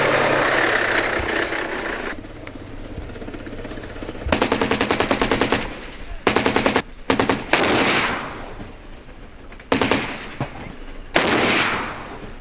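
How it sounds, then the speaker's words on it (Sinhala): Bursts of machine-gun fire from the armoured vehicles of a mechanized infantry brigade, each a loud, rapid run of shots. Heavy rumbling noise fills the gaps, and the firing comes in several clusters of different lengths. "පළමු යාන්ත්‍රික පාබල බලඇණියේ සන්නද්ධ රථවලින් ලබා දුන් වෙඩිබලයේ මැද"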